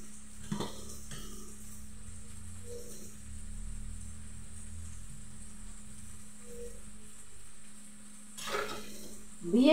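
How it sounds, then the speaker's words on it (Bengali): Meat frying in a pan on a home stove, with a soft steady sizzle running throughout, brief stirring scrapes near the start and a louder clatter of the pan and spoon at the end. "মাংস রান্না করব"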